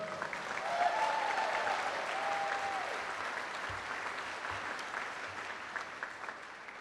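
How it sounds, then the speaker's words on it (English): Sustained applause from a college commencement audience, a steady wash of clapping from a large crowd in a hall, with faint voices and cheers under it. "Let's give our band a round of applause"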